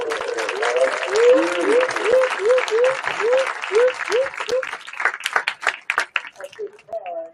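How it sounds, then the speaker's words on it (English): Audience applause for a school chorus at a dedication ceremony at Montauk High School, steady clapping from a crowd that thins out toward the end, with voices and cheers mixed in over it. "round of applause for the chorus."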